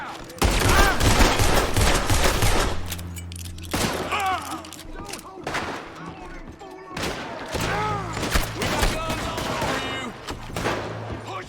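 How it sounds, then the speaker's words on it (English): Gunfire in the video game Red Dead Redemption 2, a dense volley of rapid shots crackling close and loud, with shouting voices and clattering between bursts. "So was the crime reported because of the gunshot?"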